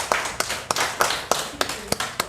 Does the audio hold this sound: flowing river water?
no